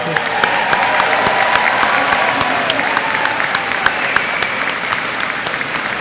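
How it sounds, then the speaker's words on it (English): An audience at an 8th grade commencement ceremony claps in dense, sustained applause, loud and even throughout, with a little crowd murmur mixed in. "Let's give our new high schoolers one more round of applause."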